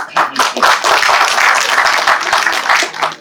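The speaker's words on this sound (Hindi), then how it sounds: "आपके लिए तालियां हो जाए।" Loud, close clapping from a group, continuous and slightly uneven for a few seconds.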